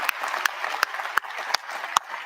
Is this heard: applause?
yes